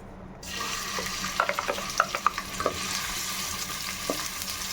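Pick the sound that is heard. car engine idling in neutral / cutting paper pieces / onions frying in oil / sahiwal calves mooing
onions frying in oil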